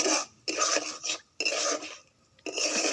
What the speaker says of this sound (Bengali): এতে এবার এই ফেটানো টক দইটা দিয়ে দেব, দিয়ে এটাকে ভালো করে কষিয়ে নেব।